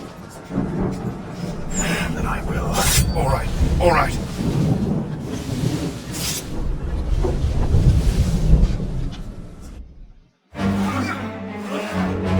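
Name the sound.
storm at sea with thunder and wind, Assassin's Creed III video game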